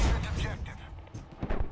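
Explosion and gunfire in the military shooter game Squad: a muffled boom followed by scattered cracking shots, dense and fairly loud, with voices talking over the noise.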